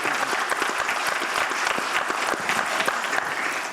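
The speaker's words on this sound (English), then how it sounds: "let's give it a round of applause" Audience applause at a town council meeting, a lively crackle of many hands clapping with distinct sharp claps standing out, sustained at a fairly loud level throughout.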